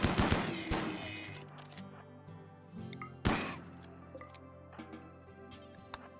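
Gunfire in RimWorld: a few sharp shots, the loudest near the start and one in the middle, with ringing tails and a faint tonal hum between them, and no talking.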